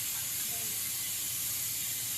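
Pressure cooker in a home kitchen with its weight removed lets out a steady, loud hiss of escaping steam, continuous and close with no pauses.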